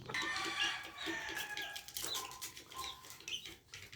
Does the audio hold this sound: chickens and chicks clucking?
yes